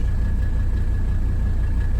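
Low, steady rumble of a 1985 Mercedes 300D diesel engine idling nearby, constant and unchanging throughout with no other sounds.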